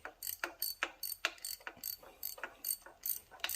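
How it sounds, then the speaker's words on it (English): A ratchet tightening a bolt on a 1993 GMC Typhoon: quiet, close, rapid clicking strokes in an even back-and-forth rhythm, about two clicks per second, with no voices. "That one may be able to be tightened with a ratchet."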